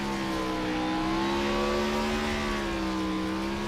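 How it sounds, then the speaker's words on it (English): Race car engines roar and whine continuously doing burnouts in iRacing at Road America, the revving pitch sliding slowly up and down under a constant layer of tire noise. "Wow, those are some awesome burnouts."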